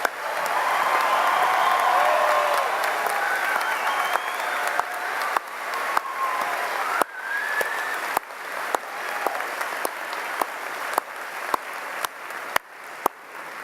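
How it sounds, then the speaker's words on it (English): Audience at a university commencement applauds the graduates: a full, loud wash of crowd clapping with some cheering, which thins out in the second half into scattered, separate claps. "have a big applause for all the graduates of both the colleges"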